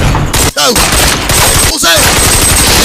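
Rapid bursts of gunfire from an action film, loud and dense machine-gun style volleys filling the whole clip, with brief gaps between bursts and a dubbed voice narrating over the shooting.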